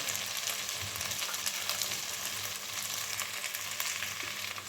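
Peppers frying in a pan with a constant sizzle and scattered crackles, close up, some faint stirring noises underneath.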